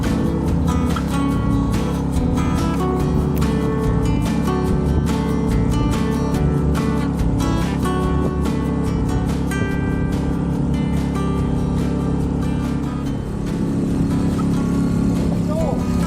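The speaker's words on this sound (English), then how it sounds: "we decided to run the motor until we were well away from land" A sailboat's motor drones steadily across a bay with light winds, a constant near engine hum with water rushing beneath, while someone talks over it.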